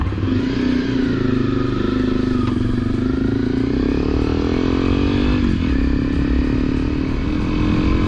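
Steady, loud motorcycle engine drone while riding, with gentle shifts in pitch as the bike changes speed, wind-like rumble underneath, and no talking.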